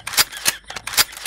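A toy cap gun fires caps during Deepavali festivities, four or five sharp, close snapping cracks in quick, fairly even succession.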